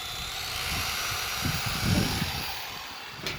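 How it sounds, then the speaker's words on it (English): A Chicago polisher from Harbor Freight, run at about 1,000 RPM as a slow-speed hand grinder, grinds inside a trailer frame, giving a steady low whirring drone with rougher bursts of grinding contact near the middle. "Now I can grind inside of this trailer frame. I can get right down inside of it and grind."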